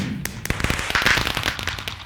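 Fireworks burst in the Minecraft GT New Horizons modpack, giving a loud, dense run of rapid crackling pops and sharp snaps that keeps going for about two seconds.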